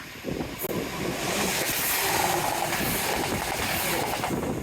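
Train wheels rumble and clatter on the tracks, a steady loud mechanical roar with rhythmic clicks underneath.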